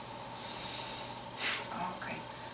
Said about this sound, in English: I want you to breathe for me, like blow your nose.